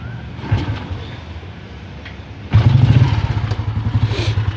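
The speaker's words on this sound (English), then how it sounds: "I guess I'll have to decompress the engine first." A Royal Enfield Electra 350 or Classic 500 motorcycle engine turns over weakly, then fires up into a loud, close, thumping idle with a steady pulsing beat and no voices.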